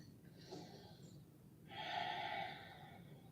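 Slow, deep breaths during a yoga session, a soft inhale followed by a longer, louder exhale, quiet and close.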